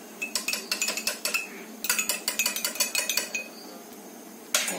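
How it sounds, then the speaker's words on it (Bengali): A metal spoon clinks quickly and repeatedly against the inside of a cup while stirring milk into freshly made tea, in close, bright bursts with short pauses, then one last tap, and nobody speaks. "চা হয়ে গেছে দুধটা মিশিয়ে নিলাম"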